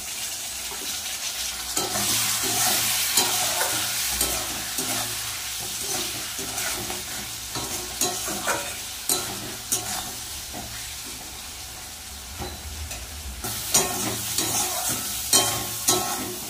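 Spices and potatoes sauté in a pan for a bhola fish curry with aubergine. A steady frying sizzle runs throughout, broken by frequent scraping and clattering of a spatula stirring close by, with no talk.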